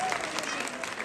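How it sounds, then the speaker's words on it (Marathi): Audience at a comedy home-game show claps for four semi-finalists, a short burst of dense, fairly distant applause with a voice talking over it. "सगळ्याच्या जोरात टाळ्या यांच्यासाठी"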